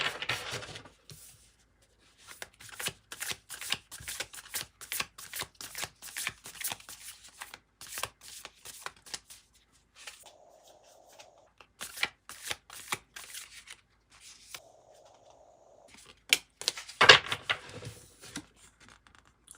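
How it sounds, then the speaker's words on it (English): Tarot cards riffled and shuffled in quick, crisp bursts, close up, with a short pause near the middle and a sharper flurry toward the end. "Let's go ahead and shuffle this again."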